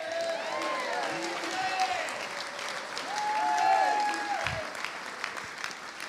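A crowd at a college basketball awards ceremony applauds a Most Courageous Award winner; the clapping is moderately loud and continuous, with whistling tones and some voices layered over it.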